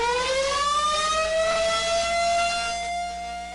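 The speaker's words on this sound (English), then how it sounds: "should those Lahar sirens go off." A lahar warning siren in a Washington city wails loudly and continuously, with a steady rising tone over a low rumble.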